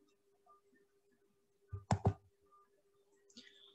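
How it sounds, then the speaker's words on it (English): A mouse click on a save button in business reporting software, heard as a close double click standing out against near silence, followed by faint scattered clicks. "Here you need to click on save."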